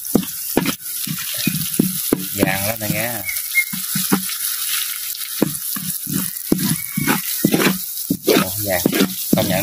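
Cooked rice frying in a hot pan, a continuous loud sizzle with scraping and stirring throughout while someone talks over it.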